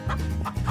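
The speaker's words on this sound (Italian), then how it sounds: "ho recuperato il pollo" A chicken clucks in the farm shooter video game Shotgun Farmers, two or three quick, close clucks over a low steady game hum.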